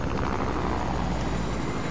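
A helicopter in Fortnite gives off a loud, continuous rotor and engine roar, steady and close for the whole stretch.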